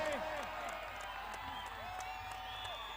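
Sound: spectators clapping at kabaddi match

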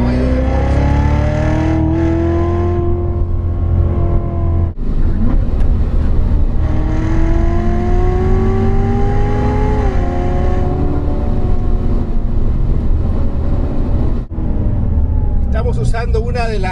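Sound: 2015 Corvette Z06, 650 hp, accelerating on race track

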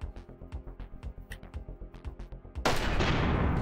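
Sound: grenade launcher firing in MECHBLAZE video game

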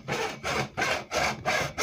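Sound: hand sawing a PVC pipe

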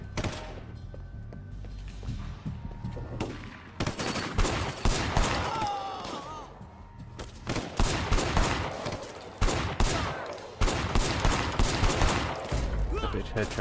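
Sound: gunfire in the Sleeping Dogs video game

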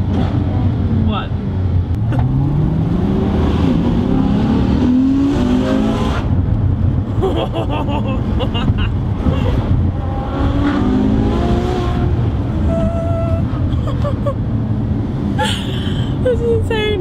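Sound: Ferrari F12 sports car accelerating and revving

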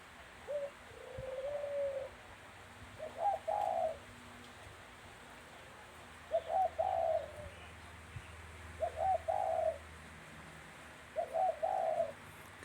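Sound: captive dove cooing

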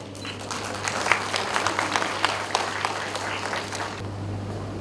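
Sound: applause

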